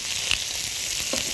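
Stuffed mixed vegetables (sarfolo) fry in a pan with a steady, close hiss of oil, broken by a couple of soft pops and crackles.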